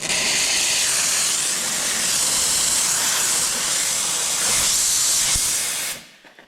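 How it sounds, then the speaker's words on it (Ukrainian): The steam wands of a restored espresso machine let out a loud, steady hiss that holds for about six seconds, then cuts off abruptly into near silence. "Далі пробіжимося по стімерам справа наліво."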